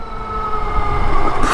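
A 2016 Victory Empulse TT electric motorcycle accelerates hard in third gear. Its steady electric motor whine climbs over a constant roar of wind and road noise, with no talk.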